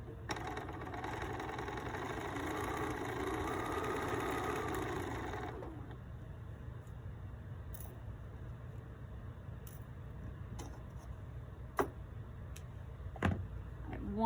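Sewing machine stitching quilt blocks runs in a steady whir for about five seconds, then stops, leaving quiet room tone with a few faint clicks and taps.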